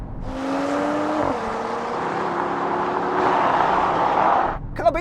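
Several cars launch in a drag race, a diesel Audi S4 among them alongside a Volvo S60 Polestar, BMW M340i and AMG E53, their engines roaring loud and steady with rising pitch as they accelerate, then cutting off near the end.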